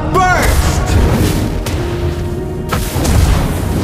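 Valir's Lava Burst skill goes off in the game Mobile Legends with a loud, close explosive boom, then a deep rumble and a second heavy burst near the end, with no talk over it.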